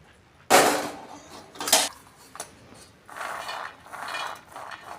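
Roasted peanuts are tipped from a pan onto a plate in a few loud rattling, clattering bursts, with shorter scraping and pouring spills between them; no talk.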